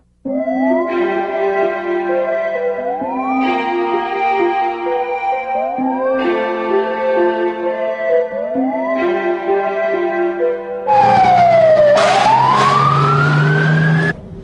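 A fire engine siren plays a repeating two-tone horn pattern, four loud rising cycles in a steady rhythm, then switches into a harsher, louder wailing sweep near the end.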